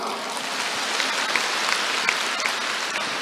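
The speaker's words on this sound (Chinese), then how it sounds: "鼓掌。" An audience at a question-and-answer session in Kuala Lumpur applauds, steady dense clapping from a crowd with a few sharper individual claps standing out.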